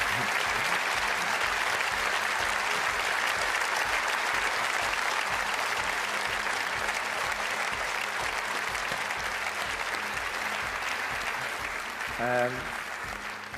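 A large audience at an evening show applauds warmly and steadily for over thirteen seconds, a dense even wash of clapping that holds loud throughout, with a brief voice breaking in near the end.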